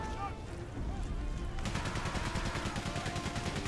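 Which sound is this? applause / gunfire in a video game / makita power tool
gunfire in a video game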